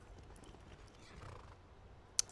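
Horse in the video game Skyrim: a faint, distant horse sound with soft movement, ending in one brief sharp click, no talking.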